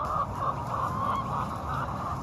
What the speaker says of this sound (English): Chickens naturally like to scratch, and so we'll put some grain out here every once in a while for them to scratch